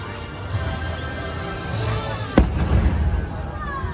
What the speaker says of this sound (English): so some cute little fireworks